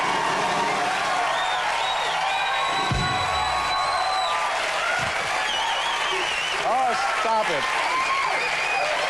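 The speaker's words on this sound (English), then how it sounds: "we get cheap applause by kissing up to our audience" A late-night television studio audience fills the room with loud, sustained applause and cheering, with whoops rising over the clapping and a voice speaking briefly through it.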